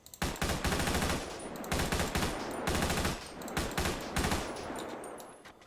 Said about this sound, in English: the standard SMG for the police